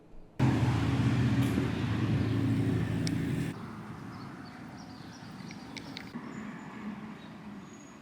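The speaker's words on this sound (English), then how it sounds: "You never really know what you're going to get with a New York hotel room in terms of traffic noise." Steady road traffic rumble outside a New York hotel room, a loud broadband roar for the first few seconds that eases to a lower continuous wash with faint distant tonal hints.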